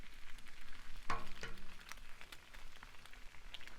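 Fried eggs sizzle on a Blackstone griddle during fried rice cooking, a steady soft crackle with a sharper clatter near the start, no voices.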